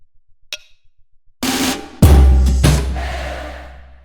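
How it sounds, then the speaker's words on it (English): Quick soft drum taps lead into booming, crashing drum-roll transitions for an Afrobeat track in FL Studio, swelling and decaying into a long, roaring tail. "So the three of them, the drum rolls sound like this."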